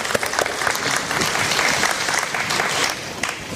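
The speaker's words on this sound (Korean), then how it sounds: "환영의 박수를 보냅니다." Sustained welcoming applause fills a hall at the opening ceremony of a human rights forum, hundreds of hands clapping in a dense, even roar that eases slightly near the end.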